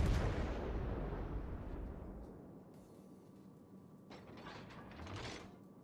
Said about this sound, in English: Come on, turrets, traverse.